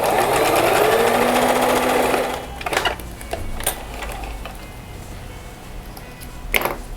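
A sewing machine stitches a fabric notebook cover with a steady, close whir for about two seconds, then stops, leaving quiet handling clicks and fabric rustles.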